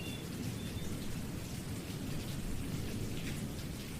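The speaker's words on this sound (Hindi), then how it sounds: "उफ, ये बारिश, मुंबई की बारिश का भी कुछ कहना नहीं है, बिन बादल बरसात।" Heavy, steady rain with rolling thunder fills a radio-drama scene set in Mumbai, a dense continuous downpour with low rumbling throughout and no voices.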